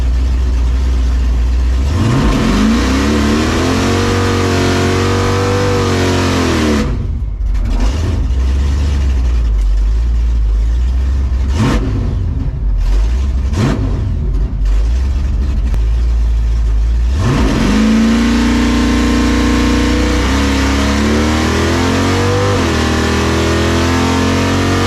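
A Chevy Nova drag car's engine revs and idles roughly, loud and close, rising in pitch as it accelerates on a test pass, cutting back, then surging again with sharp pops between pulls.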